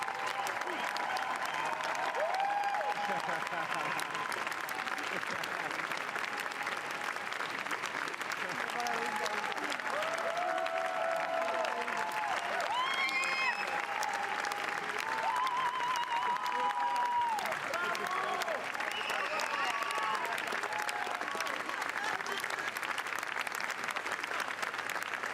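Sustained applause from a large crowd giving a standing ovation at the Cannes Film Festival, a dense continuous clapping that stays even and full throughout, with scattered voices and faint cheers mixed in.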